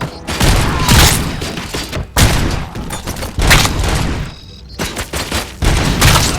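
Dense bursts of gunfire and heavy impacts from the Robocop Rogue City video game, loud and continuous in three long volleys separated by brief gaps, with booming thuds mixed into the shooting.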